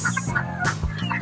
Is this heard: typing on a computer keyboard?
no